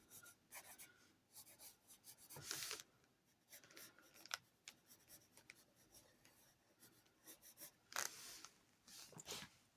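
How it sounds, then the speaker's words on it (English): A pen moves over a drawing surface while sketching hands for an anthro character, with soft scratchy strokes and short bursts of scribbling, close and quiet. "I'm going to just start by doing my method for drawing hands here"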